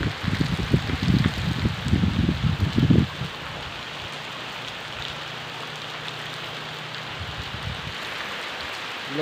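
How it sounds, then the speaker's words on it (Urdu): Heavy rain falls in a village in a steady, loud rush, with louder low rumbling bursts in the first few seconds before settling into an even downpour. "بڑی تیز بارش ہو رہی ہے"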